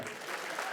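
Brief burst of audience applause at a Kannada comedy stage event, dense clapping from a crowd, moderately loud and steady for under a second.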